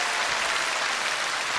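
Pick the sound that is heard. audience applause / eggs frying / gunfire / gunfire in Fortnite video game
audience applause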